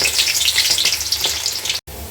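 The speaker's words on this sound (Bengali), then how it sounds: "এখন আমি পেঁয়াজ কুচি দিয়ে দিব।" Chopped onions sizzling in hot soybean oil in a cooking pot, a loud continuous frying hiss with crackles, close and alone before a brief dropout near the end.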